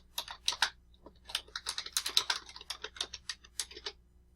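Rapid, uneven clicking of fingers typing on a computer keyboard, close and clear, with short bursts of keystrokes and brief pauses and no voices.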